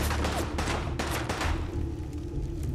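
Enemy gunfire in the Fallout 4 video game, a rapid fusillade of shots and booms over a steady low rumble, dense at first and then thinning out.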